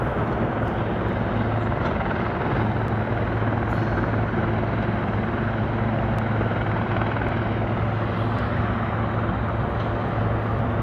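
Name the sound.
helicopter flying past at a waterfront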